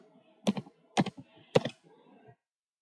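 Three separate keystroke taps on a computer keyboard, spaced about half a second apart, close and fairly quiet in an otherwise still room, as equations are typed into a calculator program.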